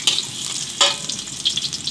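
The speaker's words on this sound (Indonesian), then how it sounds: "Wajan, masukkan bawang" Oil crackles and sizzles steadily as garlic fries in a hot wok, a dense close-up hiss with small pops and no voices.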